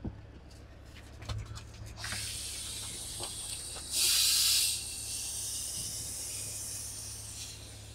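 A wet line on a Western Belt conveyor trailer starts up with a steady, close hiss after a few sharp clicks, then swells into a louder rushing burst for under a second before settling back to a continuous hiss.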